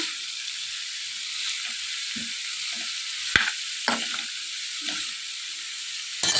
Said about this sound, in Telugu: ఇలా బీరకాయ చెప్పలన్నీ వేసుకుని వీటన్నిటిని బాగా మగ్గే వరకు మగ్గనివ్వాలి